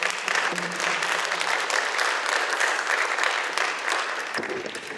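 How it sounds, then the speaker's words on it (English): A room full of people at a League of Women Voters candidate forum applauds the candidates in a sustained, even burst of clapping that holds for the whole stretch before tapering slightly at the end. "let's have a big round of applause for all of our candidates"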